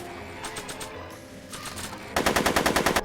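Rapid automatic gunfire from a Back to the Future video game set in a warehouse, starting as softer scattered shots and breaking into a loud, evenly spaced burst of bangs near the end.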